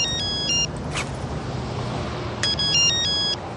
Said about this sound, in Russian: Прости, телефон звонит.